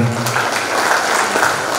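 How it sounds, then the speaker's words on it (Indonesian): Audience applause at an Indonesian BPJS Ketenagakerjaan outreach event, a short burst of loud, dense clapping with a voice briefly audible at the start. "Tepuk tangan untuk kita semuanya."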